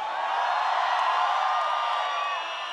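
A big festival crowd roars and whoops continuously at a concert in Medellín, a dense, steady wall of cheering that stays loud throughout with no talk above it.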